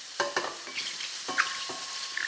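Food browning in a little oil in a non-nonstick pan gives a soft steady sizzle, broken by a few sharp clicks and taps of stirring or turning.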